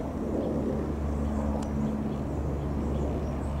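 A United airliner departing Lindbergh Field passes overhead, a steady low droning engine rumble with a faint whine, continuous and moderately loud, with faint background noise.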